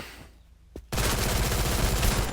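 Gunfire in the Free Fire battle royale game: after a quiet stretch and a single sharp shot, a dense sustained burst of rapid automatic fire fills the rest, loud and continuous.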